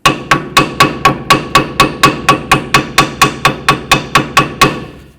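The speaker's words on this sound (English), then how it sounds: "trying to clean up this area with the hammer and the little chisel" Steady hammer blows on a small chisel against a brake bracket on a Ford F-150, about sixteen sharp ringing strikes in an even rhythm, loud and close, with no talking.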